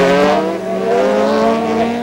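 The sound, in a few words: rally race cars cornering on ice circuit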